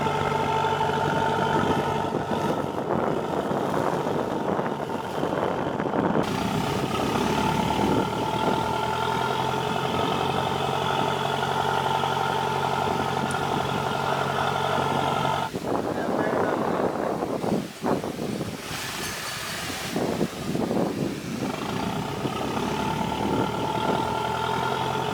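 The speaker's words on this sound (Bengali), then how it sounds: "তীর থেকে একই সাথে সাগরে আসা আরও একটি ট্রলার আমাদের এখানে এসেছে।" A fishing trawler's engine idles at sea in the Bay of Bengal, a steady close droning hum running throughout while people talk over it.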